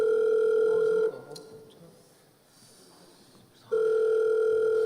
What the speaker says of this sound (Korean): 전화 한번 해볼게.